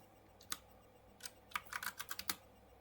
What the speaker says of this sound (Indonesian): Yang pertama kita ketikkan ini sudo nano /etc/fstab.